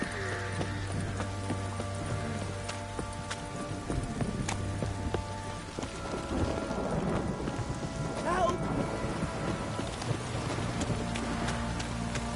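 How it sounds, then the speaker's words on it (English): Heavy rain pours down in The Witcher 3 video game, a steady dense hiss throughout, with horse hoof clip-clops and game sounds layered over it. "This downpour's a bastard,"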